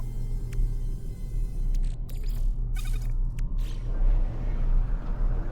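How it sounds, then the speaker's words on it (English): A storm on a planet in the video game No Man's Sky rumbles as a steady low roar and hum, with faint scattered game effects over the continuous drone. "Come on, Storm, go away."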